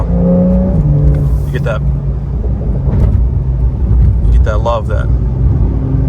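A Porsche 911 engine rumbles steadily and then rises in two sharp revs, one early and one later, while someone talks over the engine.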